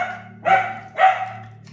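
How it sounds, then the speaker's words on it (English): Two sharp dog barks about half a second apart, fairly close, over a steady low electrical hum. "Confirmation with the dogs barking."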